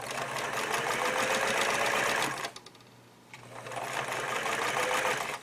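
A sewing machine fitted with a 1/4 inch piecing foot stitches scalloped binding, running in a fast, steady buzz up close, pausing briefly mid-way, then starting again at the same speed.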